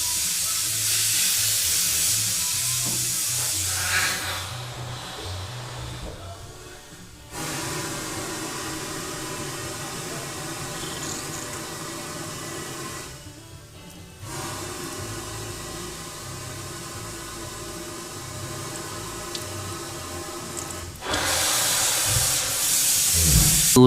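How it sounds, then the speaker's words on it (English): Compressed air hissing steadily through a car fuel line on an FJ60 Land Cruiser, a continuous close airy hiss broken by two brief pauses and rising again at the end. "I'm going to push air through it until fuel starts coming out here, so I know the line is primed"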